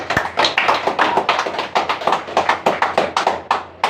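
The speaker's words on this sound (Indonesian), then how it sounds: "Tepuk tangan buat dia." Audience clapping after a church sermon, a steady run of sharp hand claps from a crowd filling the whole stretch, loud and close, with no voices over it.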